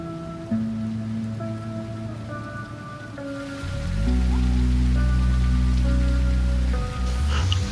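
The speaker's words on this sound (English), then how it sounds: "The rains coming down were a boon for us" Steady rain falling in the wilderness of The Isle: Evrima, a continuous hiss that swells louder midway, with low droning ambient game music underneath and no voices.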